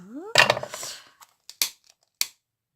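Scissors snip through a photograph being trimmed to fit a Polaroid frame, giving a few short, crisp cuts close by after a brief burst of handling noise.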